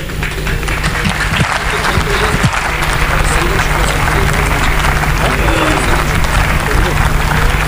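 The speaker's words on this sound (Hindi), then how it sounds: "जोरदार तालियों से स्वागत।" An audience claps loudly and continuously in welcome at a mushaira poetry gathering in Shujatganj, Kanpur, a dense, sustained wall of applause with some crowd voices mixed in.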